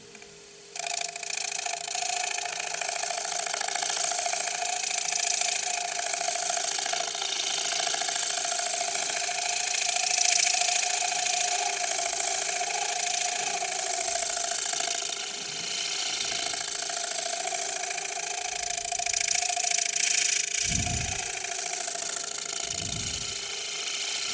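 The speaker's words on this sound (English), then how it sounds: "I am going to shear scrape the inside. So a round nose scraper, mostly on the walls here." A round nose scraper shear-scrapes the inside of a wooden piece on a running lathe, a loud steady mechanical whine and hum that continues throughout, with a few low thumps near the end.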